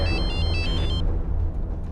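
A phone rings with a brief, high electronic trill lasting about a second, heard over a heavy, low background rumble with no voices.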